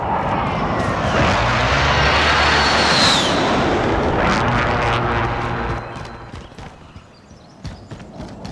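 Planes flying overhead in Call of Duty Warzone during a city battle: a loud, broad engine roar sweeping past for several seconds, then fading, with scattered impacts and thuds underneath.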